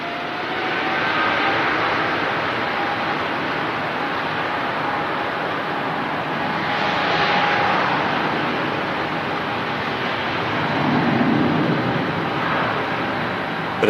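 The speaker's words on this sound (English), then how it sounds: "Cleared for the takeoff straight away. The Qatar 777 heading back to Doha." A Qatar Airways Boeing 777 takes off from Manchester Airport, a loud sustained jet roar that swells and fades slightly across the whole stretch, with no voices over it.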